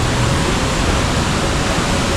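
Loud, constant roar of falling water, broadband and unbroken, like standing close beside a waterfall.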